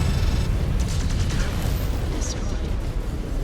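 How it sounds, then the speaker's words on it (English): Continuous rumbling blasts and booming explosions fill the scene, a dense roar of game-style destruction in MechWarrior 5: Clans, with crackling bursts layered on top. "Explosions."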